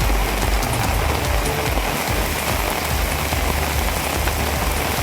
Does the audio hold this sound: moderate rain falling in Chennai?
yes